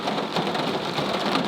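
Heavy rain drums on a car in a steady, loud, dense hiss of raindrops hitting the surface, with no voices.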